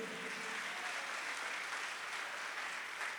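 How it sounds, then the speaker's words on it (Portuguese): Sustained applause from a church congregation, a dense wash of clapping that stays steady throughout. "Pode aplaudir a Ele, pode aplaudir"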